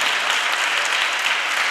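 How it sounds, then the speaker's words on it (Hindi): Congregation at a church service applauding a choir performance, dense steady clapping from many hands filling the room throughout, with no voices over it. "प्रेज़ लॉर्ड, जोरदार तालियां बजाएं।"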